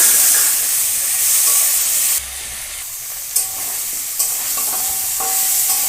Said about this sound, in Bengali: বেটে রাখা আদা জিরে পেস্টটা দিয়ে দেবো করে কষিয়ে নেবো